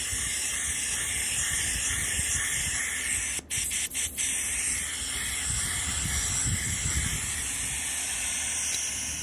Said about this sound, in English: If you have a cartridge filter, open up the valve to release the pressure.